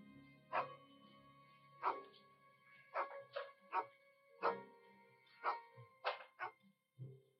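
A dog barks in loud, separate bursts, about a dozen sharp barks spaced irregularly, some in quick pairs, close by with no talking.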